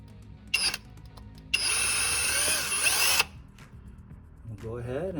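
A power drill spins up and bores into the crankshaft of an LS3/LSA supercharged engine while fitting an ATI Super Damper pin kit: a short burst, then a steady high whine for about two seconds, close and loud, followed by someone talking.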